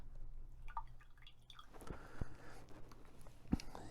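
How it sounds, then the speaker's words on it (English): Fresh squeezed lime juice poured into a glass of ice for a cocktail, a soft, brief liquid splash and drip with faint clinks, quiet and close. "You start with a 1/2 ounce of fresh squeezed lime juice. You pour that in."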